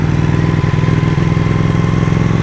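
A Ducati Panigale 1199 S engine runs with a loud, close, lumpy throb, a steady pulsing beat throughout with no talking.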